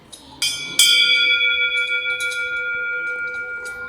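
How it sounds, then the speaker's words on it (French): A small bronze cow bell (sonaille) rings twice in quick succession, then sounds a few softer strikes, each clear metallic tone sustaining and slowly fading. "Sonaille, cloche de petite taille en bronze comme la Chamonix."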